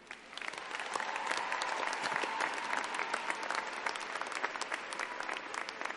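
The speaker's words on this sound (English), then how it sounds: "please join me in giving a round of applause to our professors, family members, friends, and loved ones" A graduation audience at the Adelphi University 2012 commencement applauds steadily for several seconds, a broad wash of many hands clapping at a distance in a large space, sustained without a break.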